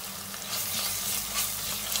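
Onions and garlic paste fry and sizzle in a pan for an Eid dish, a steady close hiss with scraping stirring strokes running through it.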